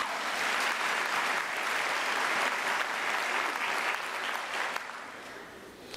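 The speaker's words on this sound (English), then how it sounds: "I thought you would spontaneously clap for these candidates." A graduation ceremony audience claps in sustained, even applause, a dense wash of hands that stays steady before thinning slightly toward the end.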